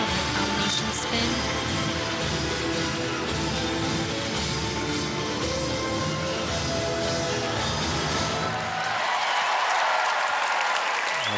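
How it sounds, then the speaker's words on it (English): An arena crowd in Omaha applauds a figure skating performance at the U.S. Championships, steady loud clapping that holds for several seconds and then thins and dies away near the end. "The crowd here in Omaha certainly loving that performance from 17-year-old Courtney Hicks."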